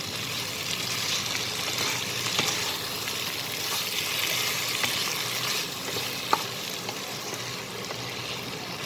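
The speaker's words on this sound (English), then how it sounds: "I will cook this like this, stirring it for near about 2 minutes so that it gets a little fried." Spiced bitter gourd fries and gets stirred in a pan, a steady, loud broadband sizzle that continues without a break, marked by occasional faint scrapes from the stirring, with no voices.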